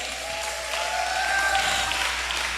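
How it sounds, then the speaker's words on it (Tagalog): A church congregation applauds steadily, the clapping swelling slightly midway, with a bit of cheering mixed in. "gusto ko may ara palakpak kag singgit."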